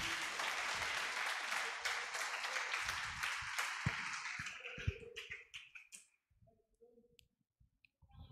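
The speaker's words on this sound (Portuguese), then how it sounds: "Você pode dar um aplauso ao Senhor Jesus aí?" A church congregation applauds, a thick wash of clapping that holds for several seconds, then thins to a few scattered claps and near silence, with a faint voice at the close.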